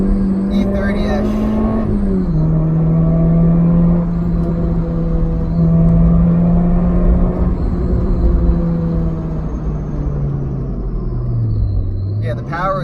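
A supercharged Honda Fit GD3 with a newer VTEC engine drones steadily from inside the cabin, its pitch holding level, then easing down near the end, with people talking over it.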